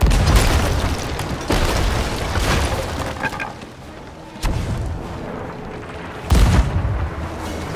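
Ship cannons fire in Sea of Thieves, several heavy booms spaced irregularly over a dense rumbling battle din, loud and close.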